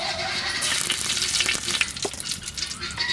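Ghee, white oil, garam masala and bay leaves frying in a kadai for village-style hilsa pulao, a loud close sizzle with spattering crackles and occasional stirring clinks.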